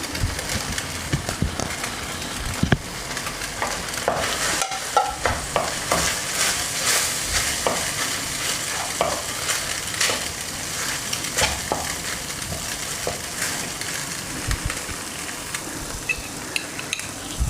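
Chicken fries and is stirred in a pan with steady loud sizzling, punctuated by repeated scraping and clanking of a spoon against the metal throughout.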